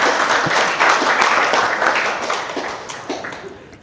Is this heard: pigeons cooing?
no